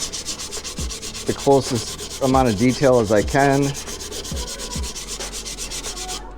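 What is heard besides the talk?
hand sanding wood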